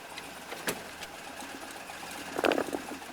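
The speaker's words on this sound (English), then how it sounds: "but you can hear the engine." A Ford Model A engine runs at a low, steady idle with a faint mechanical ticking rhythm and a few light knocks, quiet and slightly distant, with no talk.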